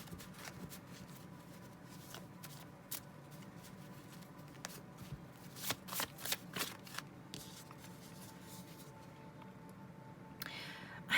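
Tarot cards shuffled continuously in a quiet room, a steady papery riffling with brief louder flurries of slapping cards near the middle and a sharp snap at the end.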